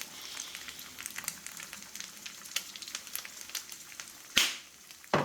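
Eggs fry in a pan in an apartment kitchen in Tirana, giving steady soft sizzling and popping crackles, with a louder clatter near the end and no talk.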